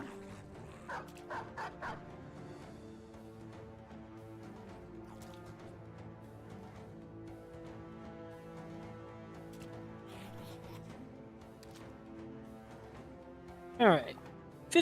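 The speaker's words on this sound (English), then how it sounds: "More dogs!" In the Battle Brothers video game, dogs give a quick run of short barks early on over steady game music, followed later by a sharp whining yelp near the end.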